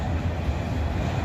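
A train rolls past in Abbeville, South Carolina with a loud, steady low rumble and rattle of rail cars, close and continuous, with no talking.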